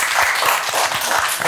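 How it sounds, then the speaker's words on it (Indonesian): Brief burst of audience applause for the teams at a chat event, dense and steady clapping, close and fairly loud. "gue mau tepuk tangan juga buat semua tim yang di sini"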